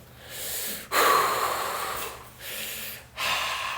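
A voice imitates a student's long, weary sigh at a hard maths problem: several drawn-out breathy exhalations and inhalations, close and fairly loud, with brief pauses between them and no words.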